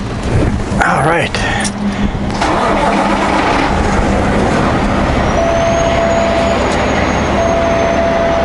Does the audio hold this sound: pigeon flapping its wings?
no